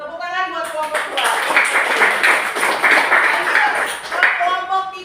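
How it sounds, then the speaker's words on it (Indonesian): A classroom applauds group 2, brisk dense clapping from many hands that swells and holds for several seconds before tapering, close and loud, with some talk at the start and end. "tepuk tangan buat kelompok 2"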